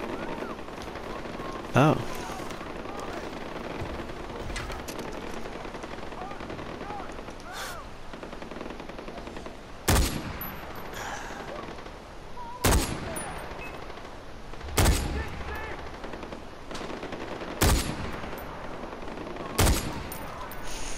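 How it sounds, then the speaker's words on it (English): Gunfire cracks in Far Cry 4, a series of sharp, loud single shots spaced a few seconds apart over a low ambient bed, with a brief exclaimed voice early on. "Who the hell is shooting?"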